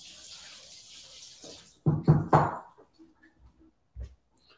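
Water runs from a kitchen sink tap as short ribs are given a quick rinse. A soft hiss of flowing water is followed by a few sharp knocks and splashes, with no talking.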